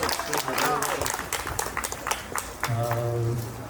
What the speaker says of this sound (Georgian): ტაში დავუკრათ, ვიმესალმოთ